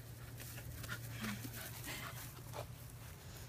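A dog pants quickly and lets out a few soft whimpers outdoors. The sounds are fairly faint and sit over a low, steady hum of background noise, with no speech.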